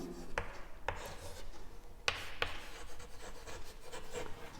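Pen or chalk writing out an example sentence: soft continuous scratching and rubbing with a few sharp taps, close and low in level.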